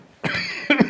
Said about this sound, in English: I should not laugh. That makes me cough.